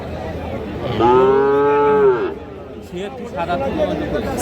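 A seven-month-old cross-breed calf gives one loud, drawn-out moo at a busy cattle market, with people talking and crowd chatter around it.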